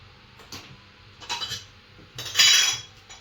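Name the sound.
kadai (wok) being placed on the gas stove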